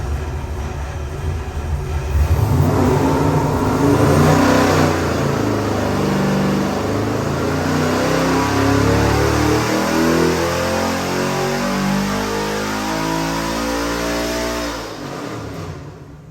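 An LS 441 cubic inch V8 performance engine rated around 700 horsepower revs on a dyno, climbing steeply in pitch, holding a loud sustained high-rpm roar, then dropping off near the end.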